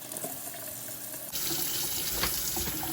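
Hot tap water runs into a bucket, a steady splashing rush that grows louder and fuller partway through, close and alone.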